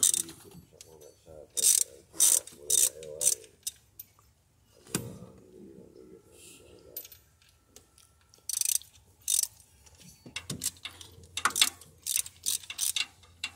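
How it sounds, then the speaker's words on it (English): A hand ratchet clicks in short quick bursts while a new spark plug is tightened into a Chevy Silverado 5.3 V8, close and crisp, separated by quiet pauses and a few small mechanical clunks. "we'll put a new spark plug in on this side"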